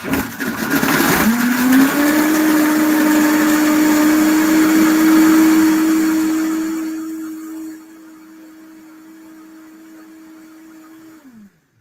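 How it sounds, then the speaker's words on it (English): A Vitamix blender mixing a shake, motor whirring loud and steady for several seconds, then easing into a lower, quieter hum before spinning down at the end. "But if you're at home or in the office, get the Vitamixer out."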